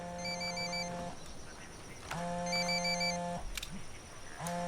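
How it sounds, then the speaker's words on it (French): Telephone ringing in Ghost Recon Wildlands, a loud electronic ring in about four long bursts with short gaps between them, close and alone with no talk over it. "Ça sonne beaucoup trop. Trouvez-le. Voilà le téléphone."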